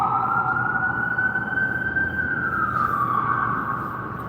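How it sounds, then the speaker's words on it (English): An emergency siren wails continuously, its pitch sliding slowly up and then down as it passes, loud and close over low road rumble. "I got an ambulance passing by me if you guys can hear in the background."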